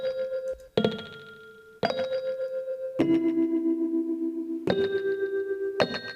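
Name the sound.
1970s electric piano chords with bell-like tine sound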